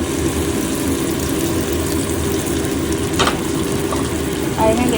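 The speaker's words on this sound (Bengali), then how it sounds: "আর এখানে দেখতে পাচ্ছ ঢ্যাঁড়সটা প্রায় আমার ভাজা হয়ে গেছিলো বলেই আমি এটা দিলাম" Okra fries in a pan after poppy seed paste is added, making a steady, close sizzle with a brief stirring scrape near the end and a low hum running underneath.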